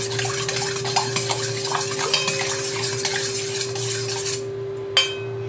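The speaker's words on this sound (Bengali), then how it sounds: "ওতে আমি দিয়ে দেবো 1 চামচ লবণ। ভালো করে মিক্স করে নেব।" A spoon stirs salt into plain water in a bowl, a continuous close swirling and scraping with light clinks, under a steady background hum, ending in a brief pause and one sharp tap.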